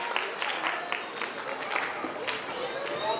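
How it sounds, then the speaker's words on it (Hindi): An audience at a school annual function applauds children being awarded medals, with steady, dense clapping throughout and a faint murmur of voices underneath. "तालियां बजाएं जरा, बच्चों का हौसला अफजाई हो जाए।"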